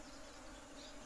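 Local honeybees buzz around a house where they have settled, a dense continuous hum heard close and steady, with no voices.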